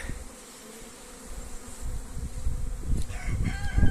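Honeybees fly around hives at a mountain apiary in a light breeze, giving a soft, continuous buzz that swells louder toward the end, with faint outdoor background and no talk.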